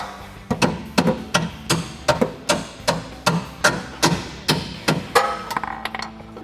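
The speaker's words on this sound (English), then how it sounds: "now we're gonna use a pry bar and our hammer to tap the bolt through" Hammer striking a pry bar to drive a suspension bolt through on a 2011-2020 Dodge Challenger R/T during an Eibach Pro-Plus suspension install, about a dozen sharp metallic taps in a steady rhythm, close and loud.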